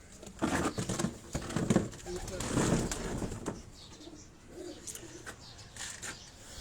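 Old pigeons kept on a Karachi rooftop give a few soft, low coos close by, mixed with light rustling and pattering, while someone talks over them.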